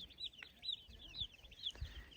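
New Hampshire and Bresse chicks crowded in a brooder box under a heat lamp give a run of bright, rapid peeps, several overlapping close by with soft scuffling underneath.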